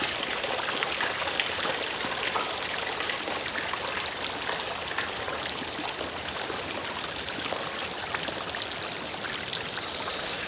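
River water flows continuously in a dense, steady rush, close and fairly loud, without any pause or change from start to finish.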